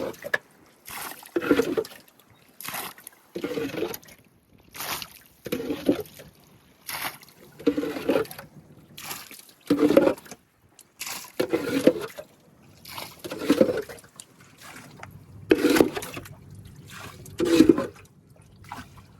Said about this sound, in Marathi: आता पाणी काढून घेऊया फटाफट.